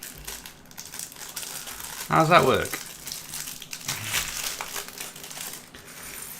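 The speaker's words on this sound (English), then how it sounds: "But then we get a plastic bag." A plastic bag crinkles in one loud, close burst during a Lego build, amid quieter rustling and a person speaking.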